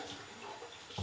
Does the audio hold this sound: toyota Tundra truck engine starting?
no